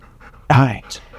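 A shelter dog pants close by, quick breathy huffs with a short voiced whimper-like burst in the middle, heard alone for about a second.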